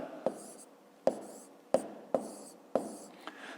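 A pen writes numbers on paper in short strokes, with six sharp scratchy taps and scrapes at irregular intervals, close and distinct over a quiet background with no talk.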